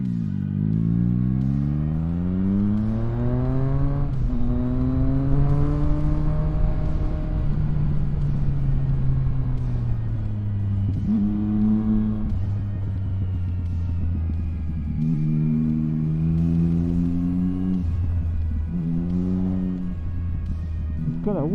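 A street motorcycle on a scenic road revs up through the gears with rising, falling engine pitch, close and loud, repeatedly accelerating and easing off over about twenty seconds.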